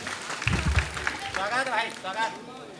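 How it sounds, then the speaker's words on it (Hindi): Audience clapping for a patriotic heroic-verse poet at a poetry recital, a short burst of applause with crowd noise, followed by someone speaking over the tail end. "जोरदार ताली भाई, जोरदार ताली वीर रस के कवि के लिए"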